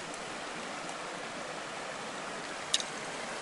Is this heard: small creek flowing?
yes